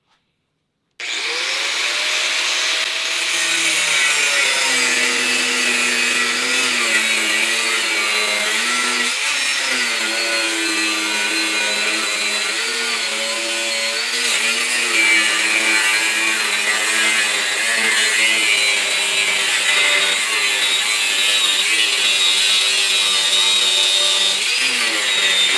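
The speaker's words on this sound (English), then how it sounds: "this is another Benchmark abrasive aluminum cutting wheel. I'm going to be using it dry, cutting through this 1-inch thick" A Benchmark abrasive aluminum cutting wheel slices dry through a 1-inch-thick aluminum piece, giving a loud, continuous grinding whine whose pitch drifts slightly as the cut goes on, heard alone for about twenty-five seconds.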